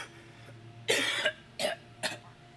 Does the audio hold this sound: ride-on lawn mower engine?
no